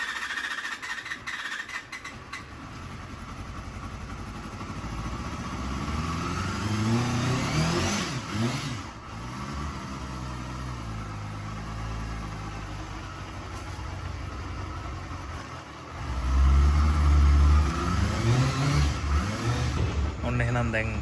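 A Honda Hornet 250 motorcycle engine revs and pulls away on a ride, rising and falling in pitch through gear changes, then swelling louder near the end.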